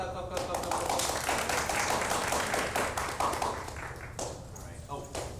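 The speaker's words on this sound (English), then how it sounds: "Clap, clap, clap, clap, clap, clap, clap." Audience clapping at a Spark Week school event: a dense, sustained patter of many hands lasting several seconds, mixed with voices and cheering, fading slightly near the end.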